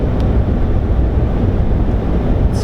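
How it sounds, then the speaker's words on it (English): Strong wind buffets a vehicle cruising at highway speed on a dry South Dakota road, a loud, steady roar of rushing air and rumble with no talking. "It's so windy"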